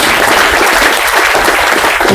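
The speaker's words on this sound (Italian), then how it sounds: "vi facciate voi un applauso per essere qui presenti oggi" Loud, close applause from an assembly audience in Thiene, Vicenza, thick continuous clapping from many people throughout, with no voices over it.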